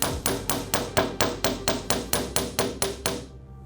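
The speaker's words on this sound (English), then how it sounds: "I've got my chasing hammer, and I'm just going to form the paddle on the end of this wire." A chasing hammer strikes a wire end over and over to flatten it into a paddle for a jewelry bypass ring, about thirteen sharp, evenly spaced metallic taps, close and clear, with no voices.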